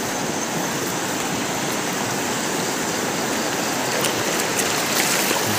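A river stream in a rainforest rushes steadily in a dense, broadband wash of flowing water that stays constant and close throughout, with no voices.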